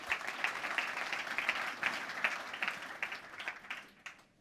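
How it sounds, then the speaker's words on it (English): A crowd applauds steadily, a dense patter of clapping that gradually thins and fades out toward the end. "Let's give Guy a big round of applause"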